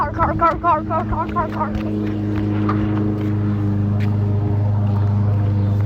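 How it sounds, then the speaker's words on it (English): Car passing close by pedestrians on a walk, a steady low rumble of engine and tire noise that swells and holds near, with brief voices and chatter over the start. "Oh, car."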